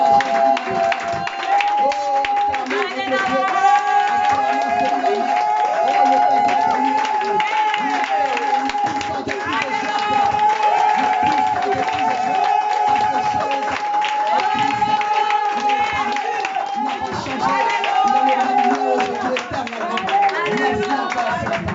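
Church congregation acclaiming and applauding during a worship service, sustained rhythmic clapping and crowd voices under singing and a leading voice throughout.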